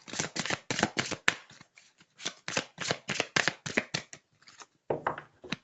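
Oracle cards are drawn and handled from a deck in a quiet room, giving a close, rapid series of crisp papery slaps and flicks with short pauses, without talk.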